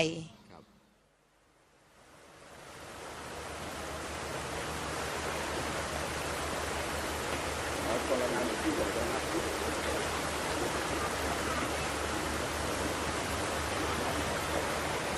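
Floodwater in Khon Kaen, Thailand, rushes in a steady, dense roar. After a quiet start it builds and holds loud and even for the rest of the clip.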